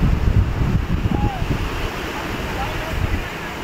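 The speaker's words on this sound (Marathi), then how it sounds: "हे माझ्या मागे दिसतो तो अथांग असा समुद्र बघू शकता आपण" Sea waves wash steadily at Dahanu beach at sunset, a continuous rushing surf close by, mixed with gusty wind buffeting the microphone.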